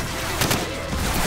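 Gunfire in the video game Call of Duty 4: Modern Warfare during a rooftop firefight, a loud, harsh burst of shots crackling across a dense, noisy battle soundscape.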